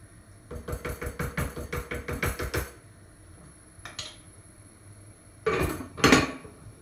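A spoon scrapes and knocks against a cooking pot as spices are stirred into a dish, a quick run of rhythmic metallic clinks, a pause, a lone knock, then two louder clanks.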